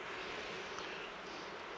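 Honeybees hum in a faint, continuous drone around an opened beehive, with no talking over the sound.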